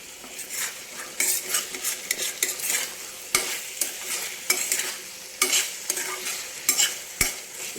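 Mutton keema frying in a pan, with a steady crackling sizzle and repeated close scraping and clinking of a spatula or spoon as it is stirred, alone with no voices.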